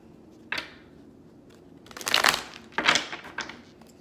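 Tarot cards shuffled by hand at close range, with a few brisk riffling and crinkling bursts separated by short pauses and no talk.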